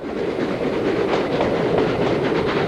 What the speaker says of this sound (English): the engine heads its train past a waiting multiple unit